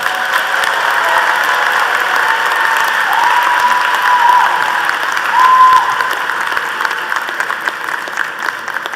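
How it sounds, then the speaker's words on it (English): A university commencement ceremony crowd gives loud, sustained applause. The dense clapping fills the hall evenly, with a slight swell midway and no speech above it. "Please join me in giving one more round of applause to our keynote speaker, Mark Telford"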